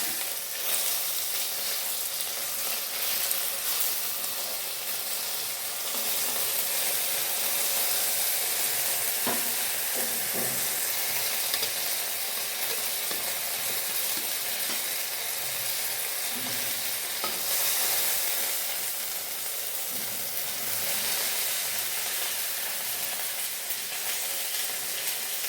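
Fish frying in oil in a covered pan in a village kitchen, a steady loud sizzle with bright hissing throughout and faint occasional clicks, with no one speaking.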